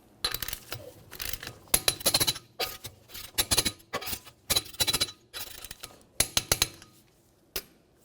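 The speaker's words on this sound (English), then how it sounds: "we'll torque these in a crisscross manner" Metallic clicks and clinks ring out as a torque wrench tightens the wheel lug nuts on a 1994-1997 Honda Accord in a crisscross pattern. The sharp ratchet-like bursts come in irregular clusters, close and fairly loud, with no talking.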